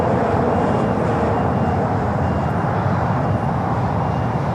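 A Volaris Airbus A320 jet taxis at LAX, a steady broadband engine roar and hum holding constant and fairly loud, with no voices over it.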